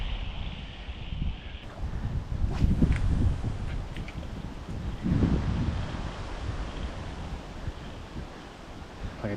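Gusty wind blows across the Upper Coliban Reservoir, buffeting the microphone in steady rumbling waves that swell twice into stronger gusts, alone with no talk.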